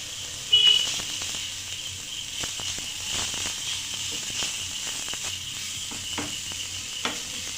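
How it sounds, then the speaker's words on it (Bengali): Chicken frying with chicken masala and coriander powder, a steady close sizzle and hiss with faint stirring scrapes throughout, alone without voices. "চিকেনটাকে আবারও ভালোভাবে কষিয়ে নিচ্ছি।"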